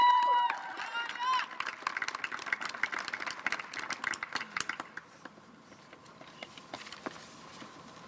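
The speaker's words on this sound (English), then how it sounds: "please give her a big round of applause" Applause and cheering from a crowd at a student walkout rally against gun violence, outdoors at the Washington State Capitol, loud at first and then thinning to scattered claps with a few voices.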